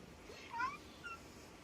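A cat gives a short, faint meow amid quiet background noise in a cat shelter, with a second, softer mew following shortly after.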